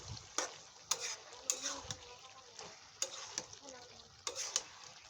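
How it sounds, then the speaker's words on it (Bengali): Stirring shrimp and taro stolon curry in a pan: a spoon scrapes and clinks against the pan in several sharp strokes over a soft, steady sizzle, close and fairly quiet, with no talk. "নেড়ে দিলাম, নেড়ে আবার ঢেকে দিচ্ছি।"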